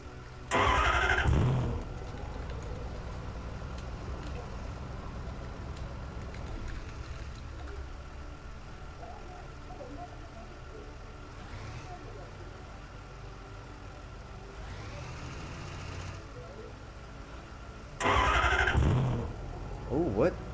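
A truck engine in the firefighting video game Fire Fighting Simulator rumbles and idles steadily, with louder revving bursts near the start and end, under people talking throughout.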